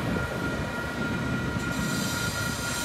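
An Amtrak Surfliner train passes close by with a steady, loud rumble and rattle of wheels on track, sustained throughout with a faint high whine.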